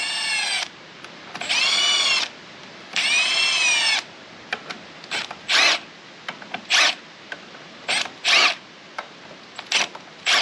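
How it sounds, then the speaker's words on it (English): Impact driver tightening the aluminum clutch cover bolts on a Yamaha TW200 motorcycle, working in a cross pattern: three sustained whirring bursts followed by a string of short, sharp hammering rattles close by, with no talk. "I always just use an impact with gentle pressure, tighten it in a cross pattern."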